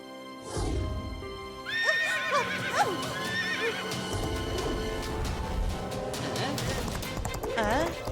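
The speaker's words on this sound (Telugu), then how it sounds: "కిటీ ఇంత బాగా గుర్రం స్వారీ చేస్తుంది చూడు." A cartoon horse gives several rising, wavering whinnies over a busy clip-clop of hooves, loud and close, with a musical backing and a brief voice near the start.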